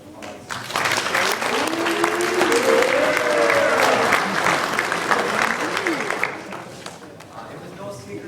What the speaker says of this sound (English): So you give him a round of applause.